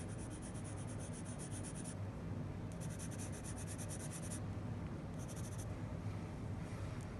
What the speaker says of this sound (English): if I blend that out with my finger, it'll be soft and nice